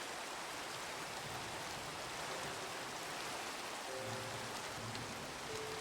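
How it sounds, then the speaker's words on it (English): Steady rain falls in a video game, a soft even hiss of drops on wet ground, continuous and moderately faint with no talking. "That would be because it's raining outside."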